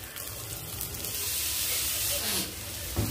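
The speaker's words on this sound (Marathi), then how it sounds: "कांदा आपण थोडा भाजून घेतोय" Finely chopped onion fries in a pan with green chilli paste for samosa filling, giving a steady, close sizzling hiss that swells slightly near the end, with no talk.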